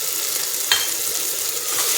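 Ground spices (garam masala, red chilli, turmeric) frying in a pan over full high flame for kathiyawadi khichdi, a steady close sizzle with a brief stirring scrape.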